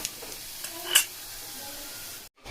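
Five-spice, radhuni, two dried chillies and two bay leaves frying in oil, giving a steady soft sizzle with a brief sharp crackle near the start, then a short break of silence before the sizzle returns.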